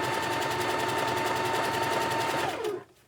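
A sewing machine stitches in a steady, fast, close mechanical chatter for about two and a half seconds, then winds down and stops.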